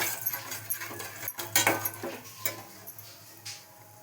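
Six boiled eggs tossed in a pan for egg curry, with light metallic scrapes and clinks of a utensil against cookware, irregular and fairly close, over a faint steady hiss.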